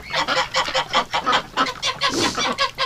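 Wintering geese kept with ducks honk loudly and repeatedly at close range, a steady stream of rhythmic calls overlapping with no talking.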